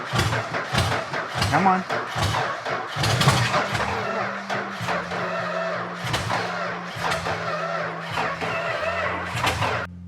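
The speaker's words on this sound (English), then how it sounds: "That is an engine that hasn't ran for 50 years" An old engine left unrun for 50 years cranks and sputters as it tries to catch, with rough bursts and a droning tone, while people talk and urge it on.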